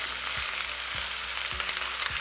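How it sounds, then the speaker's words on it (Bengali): Mixed winter vegetables fry in a pan for a panch mishali tarkari, with a steady close sizzle broken by regular soft stirring scrapes about every half second. "আর সবজিগুলো খুব ভালোভাবে ভাজা হচ্ছে"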